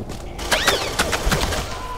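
An automatic lock-on gun in an Aliens: Colonial Marines multiplayer match fires rapid, sharp bursts of shots in an uneven stutter, loud and close, with no one talking over it.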